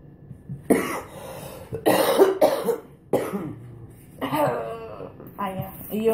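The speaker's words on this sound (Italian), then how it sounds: "C'ho ancora la tosse." Repeated close coughing fits from one person at a table during a Christmas reindeer craft, with the bursts spaced a second or so apart and no speech between them.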